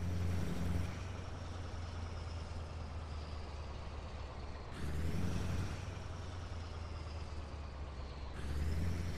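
Engine rumble of a Mack Model R truck in American Truck Simulator, a steady low drone broken by two sharp air-brake hisses, loud and close, with no talk.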